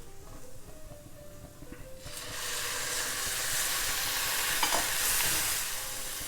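Onions crackle softly in a pan, then a loud hissing sizzle bursts in as Worcestershire sauce hits the hot surface and keeps steaming steadily, with a few stirring scrapes and no voices.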